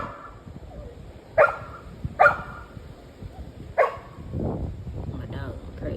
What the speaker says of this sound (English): My dog is crazy.